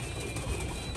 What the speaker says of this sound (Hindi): ये भी एंटीक किस्म का ही कबूतर है, लाखा सुरखा गलवा सा कबूतर है